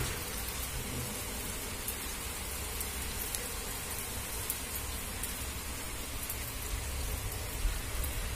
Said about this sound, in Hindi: अभी बाहर बहुत तेज बारिश हो रही है